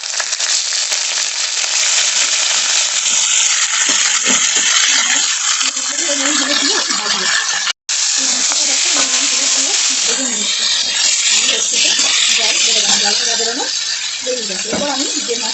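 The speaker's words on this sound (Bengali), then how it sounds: "দিয়ে এবার আমি চিকেনের পিসগুলো দিয়ে দেবো।" Chicken pieces dropped into hot oil seasoned with bay leaves, whole garam masala and a dried red chilli, sizzling loudly and steadily with stirring clatter for the whole stretch and a brief cut midway.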